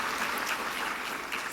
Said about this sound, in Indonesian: Boleh saya minta tepuk tangannya untuk seluruh Bunda PAUD yang hadir pada pagi hari ini.